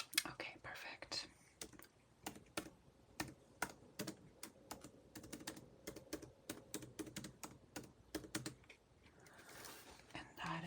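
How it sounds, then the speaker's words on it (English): Steady typing on a computer keyboard during a soft-spoken job counselling session, with quick bursts of close, crisp key clicks in an irregular rhythm and faint whispered speech underneath. "it's easier to type this way"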